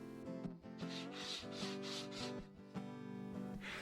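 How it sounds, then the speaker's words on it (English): A rubber cleaning stick is rubbed repeatedly across a sanding block, giving close, rhythmic squeaky scrubbing strokes, about six or seven in quick succession. "how nicely the rubber cleans the sanding block"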